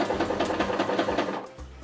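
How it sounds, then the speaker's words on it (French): A sewing machine stitches a zigzag seam while a bathrobe is remade into a vintage outfit, giving a close, steady run of rapid needle clatter that slows and stops near the end. "Et je vais faire des points zigzag."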